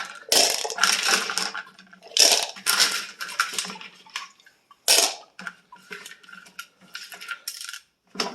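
Small tumbled rocks rattling and clattering in a tumbler barrel during a washout, close and loud bursts of hard clicking stones with wet scraping, broken by short pauses between handfuls.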